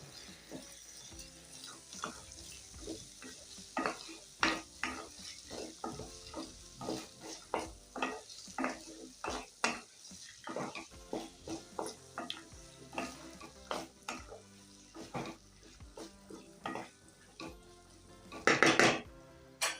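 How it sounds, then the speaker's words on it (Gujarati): Peas and potatoes being stirred in a pan for a cabbage-pea shaak, with repeated metallic spoon scrapes and clinks against the cookware over a soft sizzle, ending in a quick flurry of scraping. "હવે આ વટાણા અને બટેકાને બધું સરસ રીતના હલાવી લઈશું"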